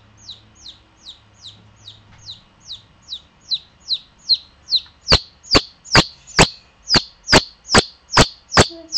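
A chicken calls in a loud, repeated rhythm of sharp clucks, first a run of thinner high calls, then about a dozen harder, closer clucks evenly spaced, with no talk.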